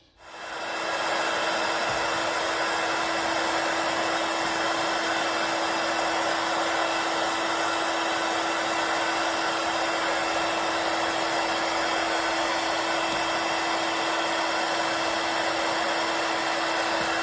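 Steady, loud blowing roar of a heat gun aimed at the stitching area of an Air Max 1 sneaker midsole, running continuously and unchanged with a constant whine throughout.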